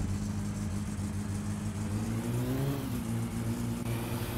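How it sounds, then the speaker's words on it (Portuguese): A car with no exhaust in the My Summer Car video game roars loudly with a low, raw engine drone whose pitch rises and dips slightly as it revs, and nobody speaks over it. "Sem o escapamento ele fica muito barulhento."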